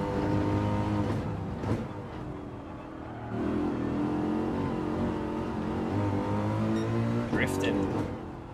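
A car drifting in Gran Turismo 7 holds a steady, droning engine note that rises and falls with throttle, with faint tire noise, under intermittent talk.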